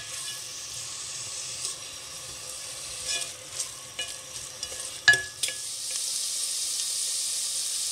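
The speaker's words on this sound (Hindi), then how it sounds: "1/4 कप से थोड़ा सा ज़्यादा जो है वो ऑयल गर्म हो रहा है। इस प्याज को इसमें थोड़ा सा फ्राई करेंगे।" Onion frying in hot oil, with a steady sizzle and intermittent stirring scrapes and clinks of a utensil against the pan, close and fairly quiet.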